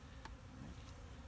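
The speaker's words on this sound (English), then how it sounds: "Now, robber bees usually don't sting anybody." Robber bees buzzing around an open beehive outdoors, a steady continuous hum of many insects close by with no talking.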